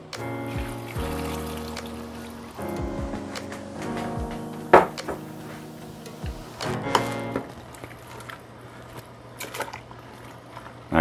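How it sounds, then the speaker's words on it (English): Water poured into a pot of cabbage soup for Russian shchi, trickling and splashing in several stretches with a few knocks of the container, no talk. "I'm adding 3 more cups of water."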